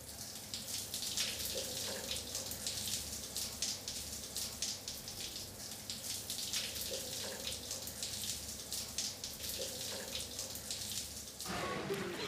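A cold shower runs steadily, a continuous broad hiss of falling water that stays loud and even throughout, with a brief change in the spray near the end.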